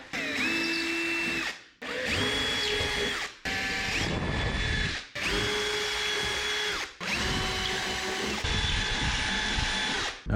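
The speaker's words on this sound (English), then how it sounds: "why am I watching this man drill damn holes in his wall?" Power drill boring holes into a shop wall, running in about six long bursts separated by brief pauses, with whining motor tones that shift in pitch as the bit bites; loud and close, no talking.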